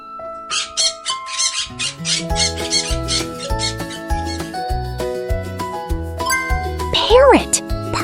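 A parrot's rapid, shrill squawking calls in quick bursts, loud and near, over a plinking, chiming musical backing.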